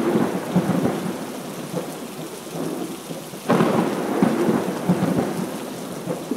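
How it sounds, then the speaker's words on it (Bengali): Steady rain hisses down while low thunder rumbles underneath, swelling into a heavier roll partway through, with no voices. "এরই মধ্যে বৃষ্টি শুরু হয়।"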